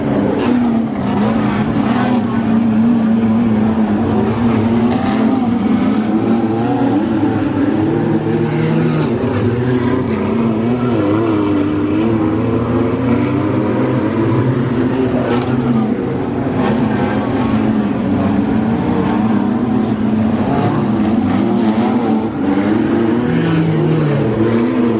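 Wingless sprint cars race around Murray Bridge Speedway, a loud continuous roar of engines with shifting revs as the field circles the dirt track, dense and unbroken throughout.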